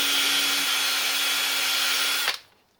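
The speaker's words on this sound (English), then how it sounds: "I've got it in a cordless drill." A cordless drill spins a grimy commutator from a 1950s engine's generator for cleaning, giving a close, steady high whine that stops abruptly near the end.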